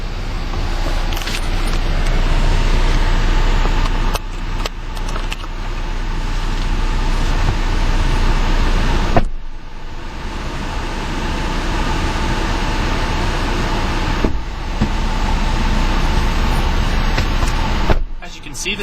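A 2012 Ford Explorer Limited EcoBoost drives along, its steady engine and road noise a continuous broadband rumble with brief dips, while someone talks over it.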